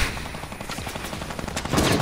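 Barrett sniper rifle fire in Fortnite zombie mode, heard as repeated loud gunshot bursts layered over dense game noise, growing heavier toward the end, with no talking.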